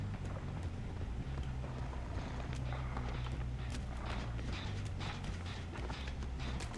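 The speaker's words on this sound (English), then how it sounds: "I hear footsteps." Footsteps in the video game Dead by Daylight, a run of soft, irregular thudding steps over a low, steady rumbling ambience, moderately quiet and continuous.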